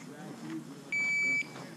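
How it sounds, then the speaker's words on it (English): A shot timer at the start of a practical shooting stage gives a single sharp electronic beep about half a second long, rising above quiet background chatter. "As soon as the timer goes off"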